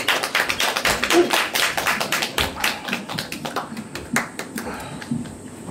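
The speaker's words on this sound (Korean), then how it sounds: "여러분 따뜻한 박수로 맞아주시죠." Warm applause from a literary program audience welcoming a poetry reciter, sharp close hand claps, loud and rapid at first, then thinning into scattered individual claps as it fades.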